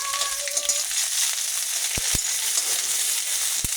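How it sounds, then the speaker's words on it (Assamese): Ginger-garlic paste fries with onions in hot oil for a pork dish, a bright continuous sizzle close by, with a few sharp knocks of a utensil against the pan. "এতিয়া মই দিম আদা নহৰু পেষ্টটো বনাই থোৱা"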